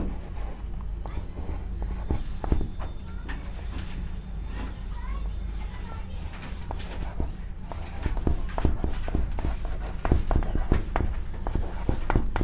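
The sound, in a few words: teacher writing on a board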